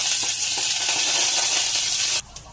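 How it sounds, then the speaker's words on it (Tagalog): Onion sautéing in a pan for pancit canton with cabbage, a loud, dense and steady close sizzle with faint stirring, cut off abruptly near the end and followed by a quieter hum and a single small clink. "magigisa ako ng sibuyas."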